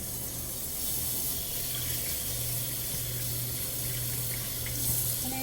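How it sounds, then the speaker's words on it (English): A kitchen tap runs steadily into a sink, giving a constant close hiss and splash of flowing water with no talk. "So I'm going to just turn on my tap"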